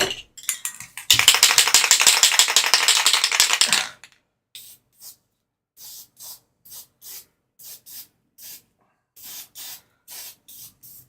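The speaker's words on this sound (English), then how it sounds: "So I'm going to quickly lacquer it." Lacquer is sprayed onto a painted model in one close, loud hiss of about three seconds from an aerosol can. A string of short, evenly spaced clicks and taps follows.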